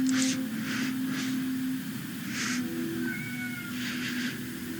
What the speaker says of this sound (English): Bye, stinky cat.